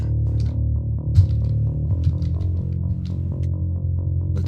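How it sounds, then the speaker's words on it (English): Bass guitar run through a simulated Sansamp Bass Driver pedal with distortion added, a thick, gritty low tone played in a steady stream of notes with little pause, alone and up close. "On this frequency, I like to start adding in some distortion."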